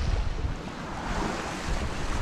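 Choppy sea waves and wind rush past a sailboat in a steady loud wash, with constant wind buffeting the microphone and no voices.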